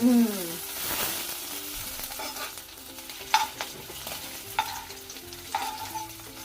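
Vegetable kebabs fry in hot oil over a low flame, a steady broadband sizzle running throughout with a few sharp clinks and scrapes near the middle and end, no talking.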